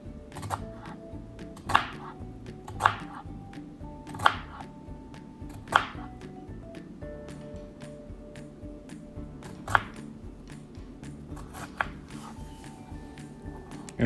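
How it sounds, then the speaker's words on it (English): A knife making lengthwise cuts through pico de gallo ingredients on a cutting board, several sharp isolated chops spaced a second or two apart over soft background music. "Then you're gonna make longwise cuts to make them into slices almost."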